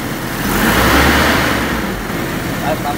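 Car engine revved after an oil change, a mid-pitched engine rising to a swell and easing back, with someone speaking faintly under it.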